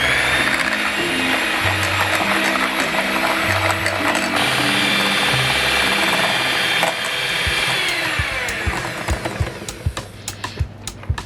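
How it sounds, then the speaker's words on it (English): Electric mixer whisking four eggs with sugar and a pinch of salt for a lemon custard cake, a steady loud whirring drone with shifting pitch, then rattling bursts as the beaters knock the bowl near the end. "we're gonna start to whisk them. We whisk them until the sides is doubled."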